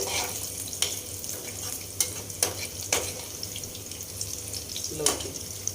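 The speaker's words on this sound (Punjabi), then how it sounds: "ਲਸਣ ਨੂੰ ਪਹਿਲਾਂ ਭੁੰਨ ਲਾਂਗੇ ਆਪਾਂ ਹਲਕਾ ਜਿਹਾ" Garlic lightly frying in a pan for langar-style dal makhani made with urad dal gives a steady sizzle, punctuated by a few sharp scrapes and clinks of stirring.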